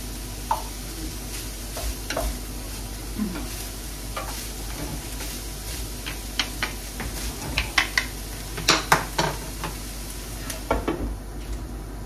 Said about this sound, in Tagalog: Shallow frying should be alright.